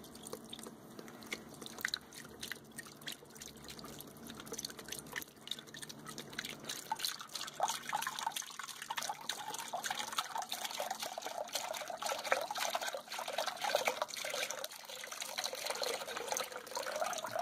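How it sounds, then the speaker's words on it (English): 32 ounces of beef broth pours from a carton into a slow cooker over beef, a continuous liquid splashing and gurgling that gets fuller and louder partway through, heard close with no talking. "And then I'm going to throw in some beef broth"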